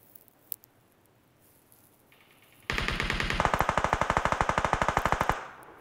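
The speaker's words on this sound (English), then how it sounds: "Where's this guy shooting from?" Automatic gunfire in PUBG Mobile, a quick even burst of about thirty close, loud shots that starts suddenly after a few faint single pops and lasts nearly three seconds.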